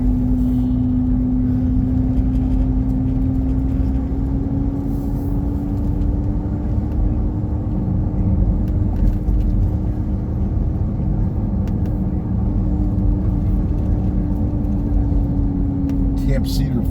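A truck driving from Angelus Oaks toward Seven Oaks during a wildfire develops a steady, sustained howl, a constant tone riding over loud engine and road rumble throughout, with a voice speaking briefly.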